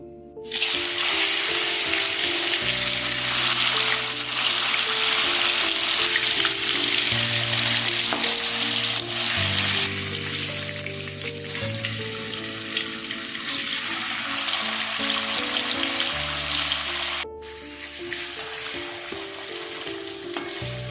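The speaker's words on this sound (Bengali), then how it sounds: "রিফাইন অয়েল দিচ্ছি আমি প্রথমে পনিরটা ভেজে নেবো" Paneer cubes fry in hot refined oil, a loud, dense sizzle that holds steady close by, dropping abruptly in level near the end, with no voices.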